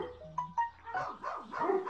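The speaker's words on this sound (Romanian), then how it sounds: "Mamă, și-am început să latre câine, e nebunie aici, nu se mai aude." A dog barks repeatedly in the background of an outdoor garden while tomato seeds are being sown, with several short yelps followed by a longer run of rising, howling barks.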